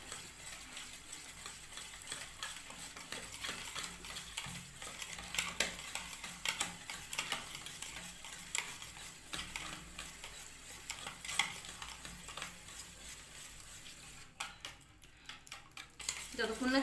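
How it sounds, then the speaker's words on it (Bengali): Home-made Christmas cake batter being beaten in a bowl, a steady scraping and tapping of utensil against the bowl running continuously, with a few sharper clinks. "মিনিমাম 3-4 মিনিট ধরে বন্ধুরা ভালো করে ফেটাতে হবে।"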